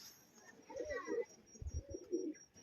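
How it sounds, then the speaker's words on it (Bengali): Pairs of domestic pigeons kept at a home loft coo in low, throaty bursts, close by and moderately loud, with a few soft chirps from other birds in the background. "আর এক জোড়া পায়রা দেখুন খুব সুন্দর পায়রা খুবই ছটপটে"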